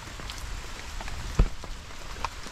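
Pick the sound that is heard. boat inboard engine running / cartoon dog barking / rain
rain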